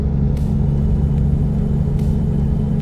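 An inline-five truck engine in American Truck Simulator drones in a steady, loud low rumble while the truck drives. The tone stays constant with no clear revving, and a couple of faint clicks sit on top, with no talk.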